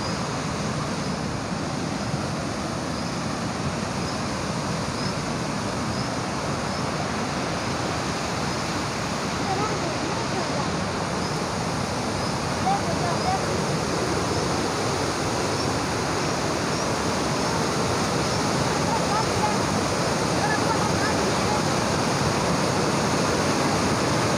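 Fast, cold river water rushing through Kalam valley in Swat, a dense, continuous roar of turbulent flow close by, steady and loud throughout with wind buffeting the microphone.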